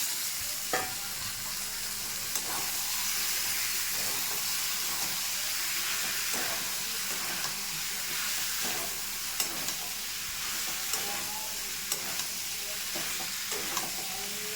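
Potato, pointed gourd and boiled chickpeas fry in hot spiced oil, giving a steady close sizzle with occasional scraping stirs and light clinks of the spoon against the pan.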